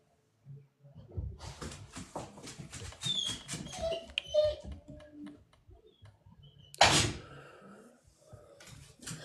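A dog whimpers and whines in short, high squeaks amid clicking and shuffling noises, with a sharp louder burst near the end.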